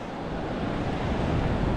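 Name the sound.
wind on a beach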